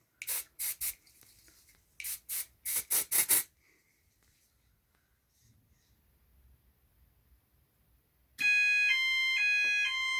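A fire alarm panel is put through a test of a Series 65 detector: a few sharp clicks and beeps sound early, then a quiet stretch, then a loud, pulsing electronic sounder comes in abruptly near the end.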